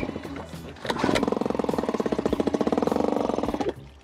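A cheap old $100 outboard motor catches and runs with a fast, rhythmic chugging pulse, loud and close, then cuts out abruptly near the end.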